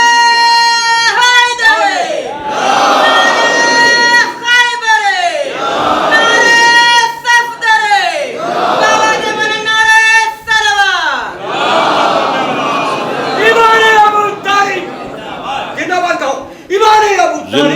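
Mourners at a chehlum majlis in Rampur chant religious slogans loudly in rhythmic unison, repeating phrase after phrase in a call-and-response pattern with strong, sustained voices and short pauses between chants.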